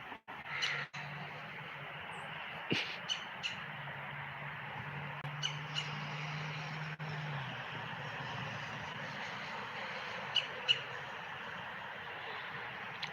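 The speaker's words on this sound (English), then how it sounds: "Just love to hear the birds chirping" Birds chirp outdoors in scattered short calls, with a few sharper tweets standing out over steady ambient noise and a low hum in the background.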